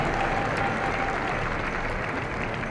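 A curling crowd at a women's championship match applauds steadily, a dense, loud wash of clapping that holds for a few seconds without fading.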